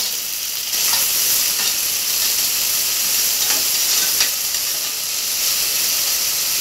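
Tomatoes frying and being stirred in a pan for vegetable pulao, a steady close sizzle and hiss with a few soft spatula scrapes scattered through, no voices.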